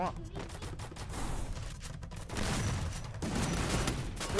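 Shotgun fire in the Free Fire mobile game comes as dense, loud bursts of gunfire and game effects that run through the whole stretch, with excited voices talking over them.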